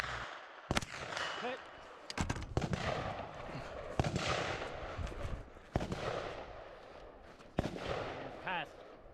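Gunshots from a KE Arms KP-9 pistol-caliber carbine at a shooting match, Woodland Brutality: several loud, sharp cracks spaced irregularly with ringing tails, close by, mixed with outdoor background noise.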